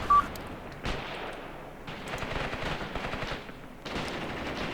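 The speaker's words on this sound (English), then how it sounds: "Okay, that was a machine gun crew. Their machine gun ran out of ammunition." A machine gun crew fires in the World War II tactics game Graviteam Tactics: Mius Front, with rapid bursts of automatic gunfire separated by short pauses, crackling at moderate distance with no speech.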